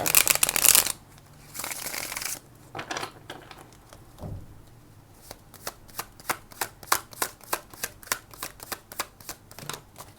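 Tarot cards are shuffled close by: an opening flurry of riffles, then a quick run of crisp, regular card flicks and taps that continues to the end with no voice.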